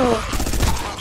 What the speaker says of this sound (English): Oh, I shot Deacon